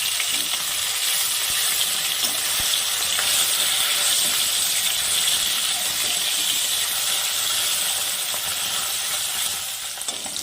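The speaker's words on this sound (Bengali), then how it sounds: "এখন মাছটাকে আমি উল্টে দিলাম।" Flipped bata fish sizzling in mustard oil, a strong continuous crackling hiss with faint stirring clicks, steady throughout and unaccompanied by talk.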